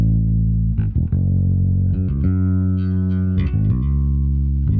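A bass-heavy synth line is processed with warm saturation, its sustained notes thickened and gritty, shifting pitch every second or so.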